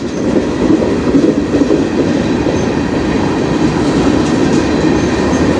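A train rolls steadily past on the Strathroy Subdivision, a loud, close, continuous roar of wheels and railcars with faint clickety-clack throughout and no voices.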